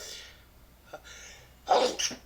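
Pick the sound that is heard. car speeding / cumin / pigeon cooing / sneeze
sneeze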